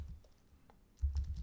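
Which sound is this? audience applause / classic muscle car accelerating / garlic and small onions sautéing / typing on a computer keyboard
typing on a computer keyboard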